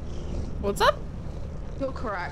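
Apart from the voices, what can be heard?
cats purring in Lethal Company video game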